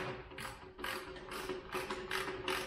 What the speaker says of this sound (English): So I'm gonna use the ratchet.